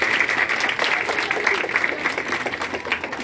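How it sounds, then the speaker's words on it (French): Audience at a school debate applauding steadily, a dense wash of clapping that fills the whole stretch at moderate loudness, with no voices standing out. "je vais vous demander d'applaudir très fort nos honorables membres"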